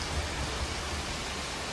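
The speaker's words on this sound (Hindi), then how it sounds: "अभी 10 बजे से हो रही है भयानक बारिश।" Heavy rain falling at night, a dense, steady hiss of broadband noise with faint low patters, quiet and unbroken for a brief moment with no one speaking.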